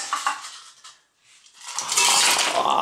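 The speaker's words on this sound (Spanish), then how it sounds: "le echáis una buena paleta de hielo, ¿vale? Al vaso de la batidora." Ice cubes tumble and clatter into a blender jar while cocktails are made, a rattling burst of hard clinks, a short pause, then a louder cascade of ice filling the glass jar up close.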